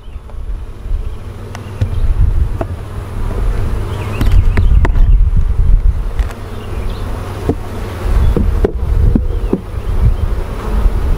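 Honey bees buzz continuously around an open hive during an inspection, a dense close droning hum with occasional louder passes near the microphone and some wind and handling noise.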